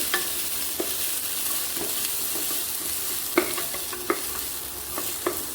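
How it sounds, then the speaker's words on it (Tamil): Onion, curry leaves and garlic fry in a pan, a continuous close sizzle punctuated by several sharp scraping taps of a spoon stirring. "வெங்காயம் நல்லா வதங்கிச்சு. நெக்ஸ்ட்டு வந்து கருவேப்பிலை கொஞ்சம் போட்டுக்கிட்டேன்."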